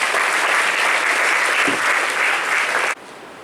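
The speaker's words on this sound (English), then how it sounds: "Please give a big round of applause." Audience applause welcomes a speaker at the College of Engineering Guindy Genesis Day ceremony, a dense, steady wash of clapping from a large crowd that holds strong for about three seconds, then cuts off abruptly.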